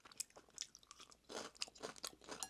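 Close, crunchy chewing of a very spicy squid and cabbage rice bowl heaped with stir-fried cabbage, several bites and munches in quick succession with no talking.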